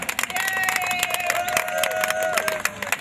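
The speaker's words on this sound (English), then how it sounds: "A round of applause." An audience claps and cheers in a hall, producing dense, steady applause over a short span, with a voice calling out over the crowd noise.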